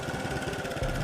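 A motorcycle engine runs on a dirt track in Tanzania during the rainy season, a short burst of steady, throbbing mid-pitched engine drone heard fairly close.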